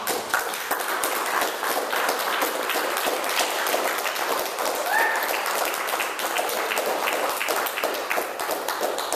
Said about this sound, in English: can we get another big round of applause for all of our readers?